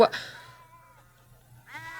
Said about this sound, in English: These sheep belong to your father Laban